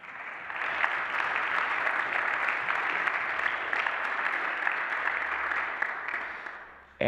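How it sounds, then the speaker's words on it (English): A concert audience applauds a live guitar performance, a steady dense wash of clapping that holds at even strength for several seconds before tapering off. "You guys are wonderful, so give yourselves a round of applause."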